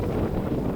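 Strong wind buffets the microphone beside a small lake with waves, a steady rushing roar and low rumble filling the short stretch without pause.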